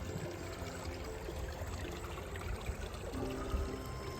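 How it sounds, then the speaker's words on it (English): A small forest stream along the Bibbulmun Track trickles and burbles softly and continuously, faint and unbroken by voices. "so found a little stream"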